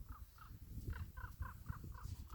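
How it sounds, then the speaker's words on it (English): A crow caws repeatedly while chasing a hawk on an October day, a rhythmic series of about eight harsh calls, faint and distant over low background rumble. "I think there's a crow chasing a hawk"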